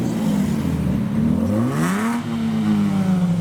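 A Lexus IS200 JDM car revs as it rolls out of a Japanese car show, engine pitch climbing and dipping in one steady pull, close and loud with no talk.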